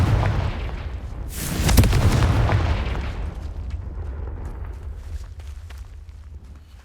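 A Confringo fire spell exploding in Hogwarts Legacy: a loud, close, deep boom with a bright crackling burst, followed by a rumbling tail that fades over several seconds.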